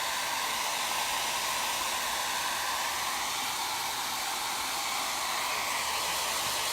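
A hair dryer blows steadily on wet Toscana milk paint, a loud, close, continuous whooshing roar with no change and no voices.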